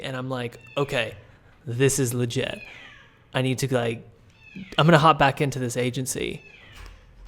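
A house cat meows and yowls repeatedly in agitated bursts, close by and mixed in with a person talking.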